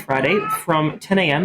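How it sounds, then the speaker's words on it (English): A house cat meows insistently for attention, a few drawn-out calls heard close behind a person talking. "we have a cat in the background who is just demanding all the attention this morning"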